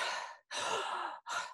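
A voice imitates heavy breathing out, three loud, close exhalations, the first two long and the last shorter, separated by brief silent gaps.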